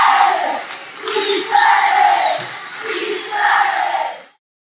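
An audience at a PL Mulheres event reacts to Michelle Bolsonaro with loud crowd shouting and cheering that rises and falls in several swelling waves, with no single voice standing out.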